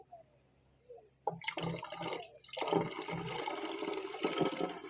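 Tobacco tea is poured into a garden sprayer, a quiet trickling and splashing of liquid that starts after a moment of near silence and continues steadily with small gurgles, with no talk.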